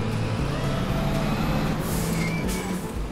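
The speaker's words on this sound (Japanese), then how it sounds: "もうブレーキの音がいいですね。" Air brakes on a Fendt tractor in Farming Simulator 25 give short, sharp hissing bursts over a steady low engine rumble, with the brake releases standing out loud and close.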